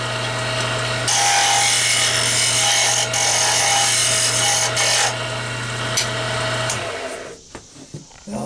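A sharp turning tool cuts a wooden pen blank on a lathe: a steady motor hum under a loud scraping, rasping cut that runs for several seconds, then winds down into quieter, intermittent scrapes.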